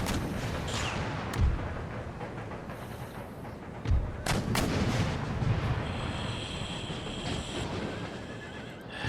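Artillery guns firing in the video game Total War: Empire, a few heavy booms spaced seconds apart amid a busy battlefield bed with horse neighs and clatter.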